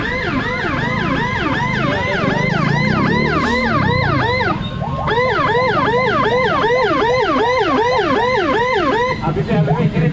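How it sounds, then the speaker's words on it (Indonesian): Loud, close ambulance siren sweeping up and down almost without pause along a crowded street in Parepare during a campaign event, with a brief low rumble of traffic and faint talk beneath. "Ini ambulans yang jadi fokus utama ya"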